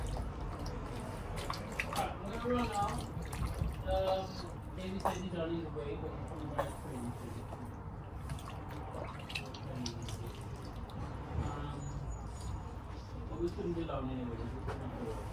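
Water running and dripping in a sink as a pumpkin is washed, a soft continuous trickle with wet squishes and people talking over it throughout.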